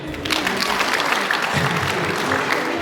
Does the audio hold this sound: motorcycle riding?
no